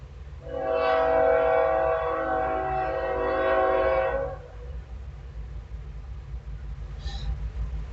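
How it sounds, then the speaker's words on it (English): A train passes fairly close, its horn blowing in long sustained blasts for about four seconds before fading into low rumbling track noise, with a brief fainter toot near the end. "The train is coming, so you might hear him honking."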